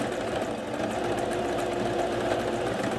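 A sewing machine runs a zigzag stitch at width 5 and length 2.5 around a fabric appliqué, a close, continuous, even mechanical hum with a rapid rhythmic clatter and no voices.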